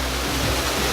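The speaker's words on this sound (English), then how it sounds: "you come upon a set of lush tropical waterfalls that lead you to the exit" Lush tropical waterfalls on the Gorilla Falls Exploration Trail at Animal Kingdom give a steady, dense rushing roar of falling water that stays close, loud and unbroken throughout, with no talk.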